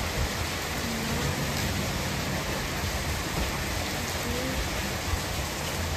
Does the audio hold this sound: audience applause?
no